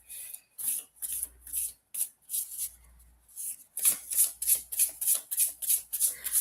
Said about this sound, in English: I got to find a different way of trying to shuffle these cards.